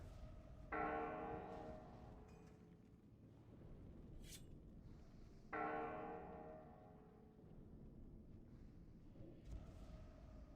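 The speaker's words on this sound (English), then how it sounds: "Oh god, it's the bell of Darkshire." A church bell tolls in Darkshire in World of Warcraft, with two clear strikes several seconds apart that ring and fade into a quiet game background.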